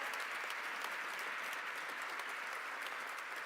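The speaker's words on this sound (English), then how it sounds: "please just give her a round of applause." An audience at a business breakfast event with the New York mayor and governor applauds, a dense, steady wash of clapping from a large room, sustained and even throughout.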